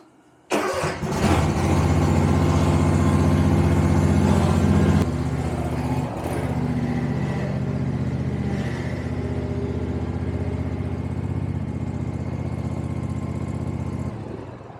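A riding lawn mower in a northern Wisconsin yard in spring fires up with a sudden loud start, then runs steadily nearby as it drives around, its engine note dipping slightly after a few seconds and holding a constant drone.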